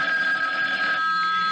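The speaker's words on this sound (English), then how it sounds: "May I answer the phone?" A telephone rings steadily and fairly loudly through the whole moment, a continuous electric bell tone with no voices over it, in an old radio-drama setting.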